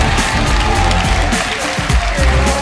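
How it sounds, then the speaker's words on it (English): Crowd of CLG fans at a League of Legends esports match applauding in a standing ovation, dense continuous clapping and cheering filling the hall, with a commentator's voice over it. "A standing ovation, I'd say, from the CLG fans in the crowd"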